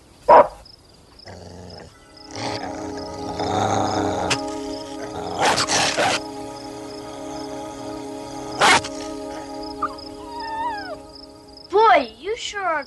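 A dog gives a couple of sharp barks, one at the start and one later, inside a house amid dialogue and background music in a television drama.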